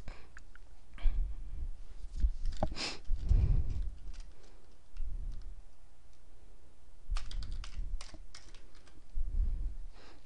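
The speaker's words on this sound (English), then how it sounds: "I'm gonna type in the name of my new database." Typing on a computer keyboard while entering a database name, sparse and quiet clicks in short bursts, accompanied by breathing and a few sniffs, with no talk.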